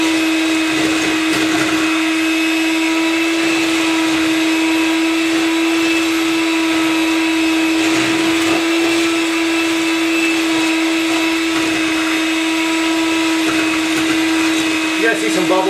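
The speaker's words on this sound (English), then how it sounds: "you want to blend this for a couple of minutes, 2 or 3 minutes, something like that" Blender running continuously for several minutes to mix a mousse, with a loud steady motor whine and buzz that never stops, close and dominant, with no pauses in the motor.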